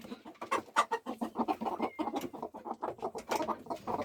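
Broody hens at a nest give a steady run of close, throaty clucks and low murmuring calls, overlapping almost without pause.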